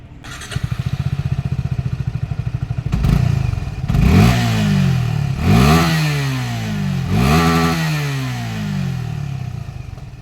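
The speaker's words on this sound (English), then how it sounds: "this engine over here, the single-cylinder oil-cooled 250cc engine" Suzuki Gixxer SF 250 with a single-cylinder oil-cooled 250cc engine, close by, idles with a fast clattering beat, then revs hard three or four times in sharp rising bursts that fall back toward idle between them.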